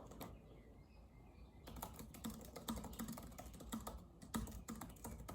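Quiet, rapid typing on a computer keyboard during a writing session, soft key clicks in uneven runs that grow busier after the first second, close and faint with no talk.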